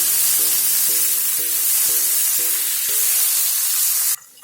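Chopped tomato sizzling loudly in hot oil in a frying pan while cooking katla kalia fish curry, a dense continuous hiss with a few soft clinks of stirring, ending abruptly.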